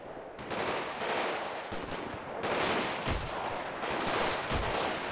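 Marksman rifle fire in a GTA 5 zombie mod battle, several sharp loud shots spaced out over a dense, roaring backdrop of gunfire and chaos.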